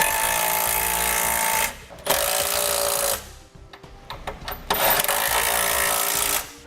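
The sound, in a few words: power tool tightening trailer hitch bolts on Honda Odyssey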